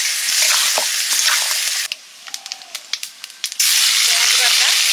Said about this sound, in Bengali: আজকে মাংসটা একটু কষা কষা করবো